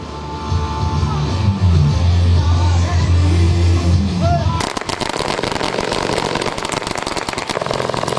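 G3 rifles and machine guns firing in a military display at a passing-out parade, a loud engine drone giving way to rapid, dense bursts of gunfire that continue without pause, close and forceful.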